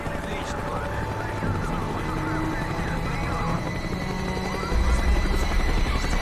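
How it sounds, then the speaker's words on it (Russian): A helicopter's rotor drones steadily overhead through a Call of Duty Black Ops battle. The loud, continuous chopping grows heavier toward the end, with scattered game sounds around it. "Вертолет идет на второй заход."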